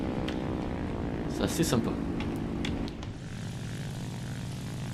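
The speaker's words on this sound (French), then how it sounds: "On accélère, ça met les gaz." A propeller fighter plane's engine drones steadily in the War Thunder game, a harmonic hum under someone speaking French that drops to a lower, quieter level near the end.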